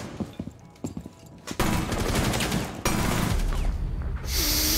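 Heavy gunfire erupts in a video game: a few scattered shots first, then sustained rapid automatic bursts with loud cracking and booming that stay dense and close, continuing almost unbroken to the end.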